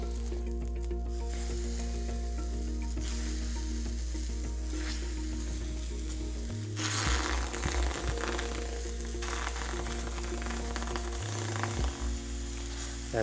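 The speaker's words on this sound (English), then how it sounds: "The scallops can go on the teppan now." Scallops sizzling on a Neff Teppan Yaki griddle, a loud, steady crackling hiss that runs without a break, with a low appliance hum underneath and no talking.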